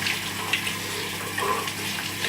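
Water splashes and rushes steadily while rinsing out a blender jar just used for green juice, a continuous close hiss with small splashy bursts.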